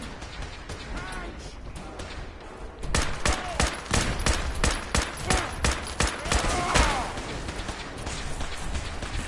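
Gunfire rattles in Fallout 4 as a burst of rapid, loud shots cracks out in a steady rhythm for several seconds, following a quieter stretch of background game noise.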